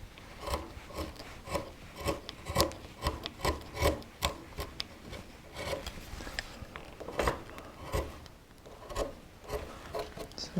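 Sharp carving tool recutting the carved wooden surfaces of an Arts and Crafts pelican, giving a close, steady series of short scraping, rasping strokes in an uneven rhythm, with no talking.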